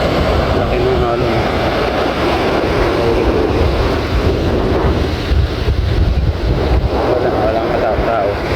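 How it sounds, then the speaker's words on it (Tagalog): Strong wind buffets the microphone beside the sea while big waves crash along the shore, a loud, continuous roar with no letup. "Laki ng alon."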